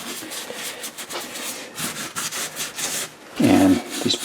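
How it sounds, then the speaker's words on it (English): A purple Scotch Brite pad scuffs the slots and portholes of a Mercedes-Benz W126 S-Class wheel during refinishing, giving close, uneven rubbing and scraping strokes with short pauses and a louder scrubbing burst near the end. "After the 120, I'm just going to go over it with a purple Scotch Brite, mainly in these slots here"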